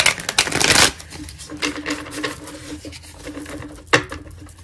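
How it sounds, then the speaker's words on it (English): Tarot cards riffled and shuffled by hand, a dense burst of papery flutter up front followed by softer scattered card taps and a final sharp snap, close and alone. "Just gonna shuffle one more time and then we'll get into the reading."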